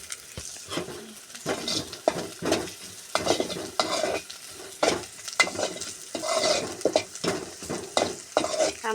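Hilsa fish cooking in mustard oil in a pan, with a steady sizzle under repeated scraping stirs of a spatula or spoon against the pan, close and fairly loud, with a few metallic clinks.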